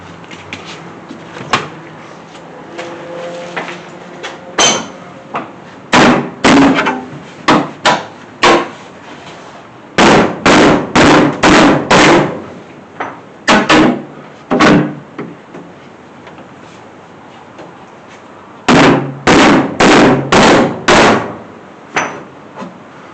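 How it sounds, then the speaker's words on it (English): A hammer strikes the sheet metal of a Mustang's inner fender well, bending it inward. The sharp metallic blows come close and loud in uneven bursts of several quick hits, with short pauses between the groups. "see if I can kind of like concave this inside in with a hammer"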